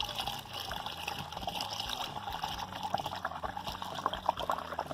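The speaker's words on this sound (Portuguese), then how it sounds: "Estou enchendo a nossa bomba agora" Water rushes and gurgles steadily as it fills a non-electric water pump through an open valve, a continuous splashing, bubbling flow heard up close.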